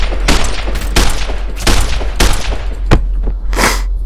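Gunfire in a video game comes as a run of loud, close bursts, about six separate shots spaced irregularly, each with a sharp crack and a short tail.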